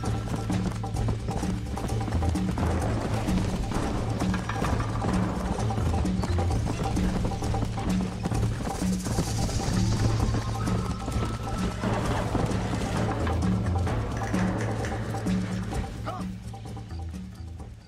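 Horse hoofbeats from riding in Red Dead Redemption 2 clop steadily and close for most of the stretch, with game music and ambience underneath, then ease off near the end.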